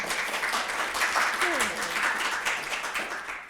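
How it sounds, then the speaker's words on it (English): Audience applause before a distinguished lecture, a steady wash of clapping from a hall crowd at moderate level, with faint voices mixed underneath. "It's nice to get a clap before I start"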